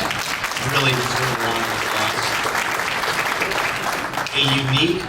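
An audience applauds at a school hall of fame ceremony honoring a girls' varsity volleyball team. The dense, steady clapping fills the room while someone speaks over it through a microphone.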